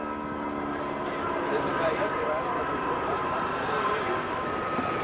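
An aerobatic airplane engine at an airshow, holding a steady, loud, continuous drone with a rough, buzzing texture as the plane finishes a tail slide.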